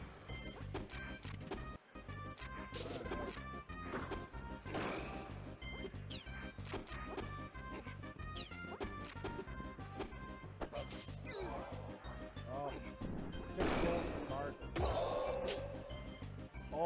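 Up smash attacks land in a Super Smash Bros 64 match, sharp smacking hits and crashes repeating over busy game music, with commentators talking throughout.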